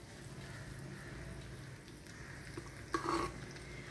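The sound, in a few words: hot tempering poured over rice kanji, sizzling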